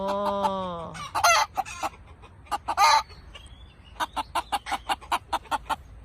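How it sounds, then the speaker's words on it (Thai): Several roosters crow and answer one another, one long crow near the start followed by bursts of clucking and cackling, then a run of evenly spaced sharp calls, close and fairly loud. "ขันรับขันรับ"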